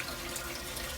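Water runs steadily through a tower garden's growing system, a soft continuous trickle and splash with no other sounds.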